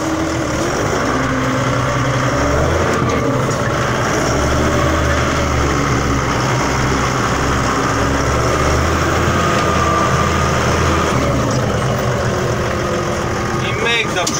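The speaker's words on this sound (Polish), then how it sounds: "strujeczki i wprowadzamy za chwilę ciągnik." A Deutz-Fahr Agrotron 120 tractor engine runs steadily with a constant low drone and hum that stay level throughout, with no breaks.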